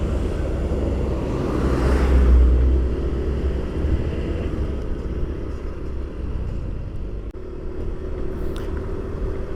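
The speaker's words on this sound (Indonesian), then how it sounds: "Nah ini juga teman-teman ya, truk pembawa pasir bangunan." A truck hauling building sand rumbles past on a rural road, its low engine drone swelling to a close pass and then settling into steady road noise.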